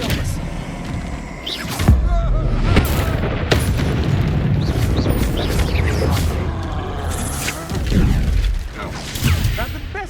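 Disarming spell combat in the Hogwarts Legacy video game: repeated booming magical blasts and impacts with crackling bursts, loud and busy, with voices talking over the fight.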